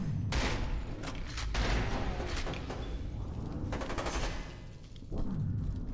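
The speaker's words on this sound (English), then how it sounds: "And then we get a shotgun." Shotgun fire in F.E.A.R. in rapid, dense repeated bursts of loud gunfire with a brief lull before the blasts resume, no speech over it.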